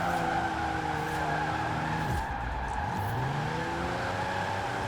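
Turbocharged Toyota with its standard engine slides sideways in Forza Horizon 4: a steady engine drone holds under a rising, wavering tire squeal that peaks midway, loud and continuous.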